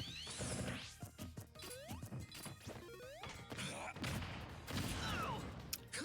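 Explosion and crash effects from a Super Smash Bros match between Sonic and Snake, a dense chaotic run of sharp bangs, whacks and sweeping game sounds with no pauses.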